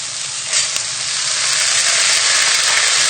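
Lentils stirred in hot fat with garlic in a pan for a butternut squash and lentil stew, giving a loud, continuous close sizzle with a brief stirring scrape near the start and no voices.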